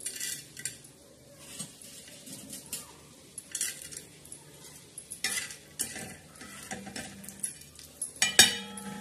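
Dal dry-roasting in a pan, stirred with a metal spoon: scattered scraping and clinking strokes over a faint background, with a sharp clatter near the end.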